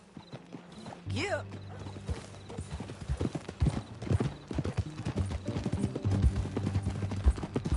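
Horse hooves clip-clop steadily in a Red Dead Redemption western game, with a horse neigh near the start and brief voices talking over the repeated rhythmic hoofbeats.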